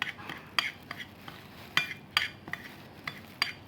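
Spoon stirring and mixing spices in a bowl for chicken breasts, with quiet irregular clinks and scrapes at close range and soft rustling between them.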